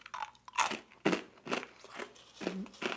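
Crunchy Kellogg's low fat granola with raisins and cinnamon being chewed close up, a series of loud crisp crunching bites in an uneven rhythm with no talking.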